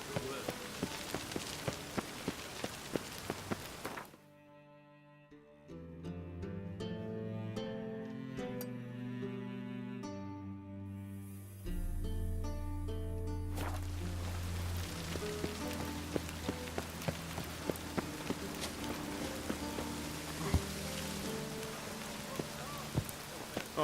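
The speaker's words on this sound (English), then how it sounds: "I like rain." Steady rain falls in The Witcher 3, a broad hiss with soft patters running alongside game music that builds and swells, staying present under the score for the whole stretch.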